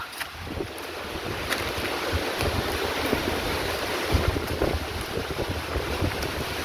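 Dry wind gusting steadily through a field of dried-out corn plants, a broad continuous rushing hiss with rustling and buffeting against the microphone, no voices.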